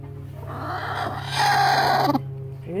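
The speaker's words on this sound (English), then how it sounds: "Broody chickens make weird noises." A broody chicken makes a low, strained, rising vocal croak and grumble, near and moderately loud over a steady background hum.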